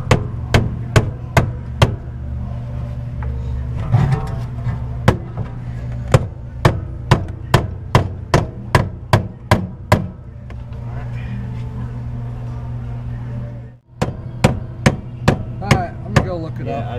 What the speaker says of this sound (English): hit right above it on the frame